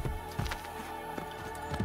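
A horse's hooves clop irregularly in the video game Assassin's Creed Brotherhood, a few distinct thuds over a steady game soundscape, with no speech.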